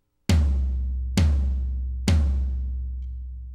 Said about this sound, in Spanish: Este grandulón de aquí abajo es el tom-tom de pie.